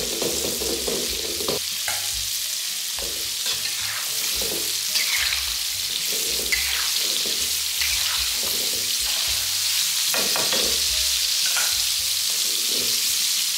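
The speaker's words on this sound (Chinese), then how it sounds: "我们炸到肉差不多熟了，都浮上来了" Coated meat deep-frying in hot oil gives a steady, close sizzle and crackle of bubbling that runs the whole time, with a few soft knocks and stirs. No one speaks.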